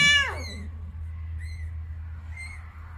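A cat gives one loud close meow, followed by two fainter, higher mewing calls over a steady low hum.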